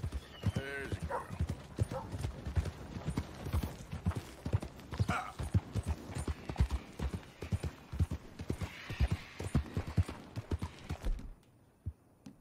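Steady hoof clip-clops from a horse walking at an even pace in the video game Red Dead Redemption, close by, with faint background murmuring, ending abruptly in near silence.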